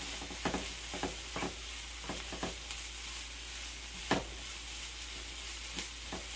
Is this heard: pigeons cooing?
no